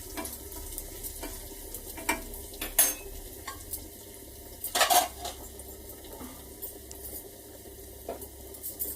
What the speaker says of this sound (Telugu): పోపు బాగా వేగిపోయింది